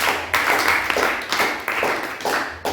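A church congregation clapping for Jesus during a sermon, with several bursts of loud, dense applause from many hands nearby.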